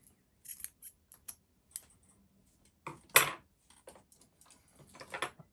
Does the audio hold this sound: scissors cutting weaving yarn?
yes